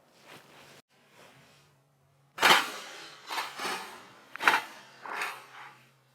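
A loaded AR-15 rifle with its safety on is dropped onto the ground, producing several sharp clattering impacts and rattles, one clear strike followed by smaller bounces, after a quiet lead-in.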